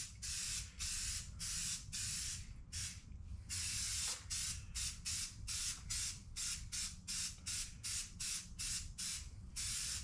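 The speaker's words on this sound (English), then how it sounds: "we're going to spray on a little espresso satin finish" A spray can laying down an espresso satin finish on shop-truck lettering in a run of repeated short hissing bursts, close and loud, with brief pauses between each pass.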